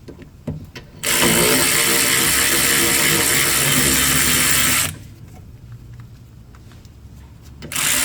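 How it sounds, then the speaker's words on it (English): An electric ratchet runs for about four seconds, a loud, steady mechanical whir while removing rear brake bolts on a 2017 Toyota Camry, then stops, leaving quieter clicks and handling noises. "Electric ratchet."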